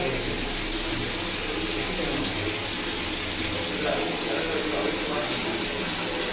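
Water gushes steadily from an opened tap, a constant hissing splash that fills the whole stretch close by, with a low background rumble.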